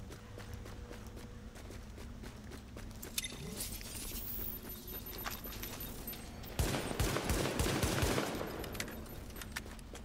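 Rapid bursts of gunfire from a shooter video game, The Division, aimed at a rat, with dense repeated shots building and then a louder close volley near the end, with no talk over it.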